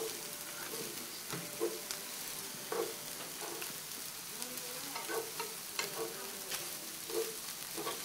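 Yakisoba noodles stir-fried on a hot surface as sauce is mixed in, with a steady sizzle under repeated scraping and tossing of a spatula, close and continuous.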